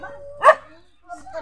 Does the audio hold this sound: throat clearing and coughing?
no